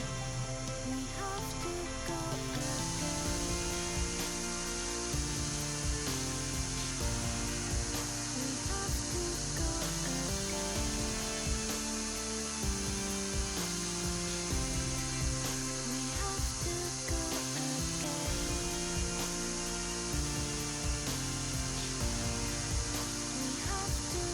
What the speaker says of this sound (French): Début de polissage de la lame au backstand.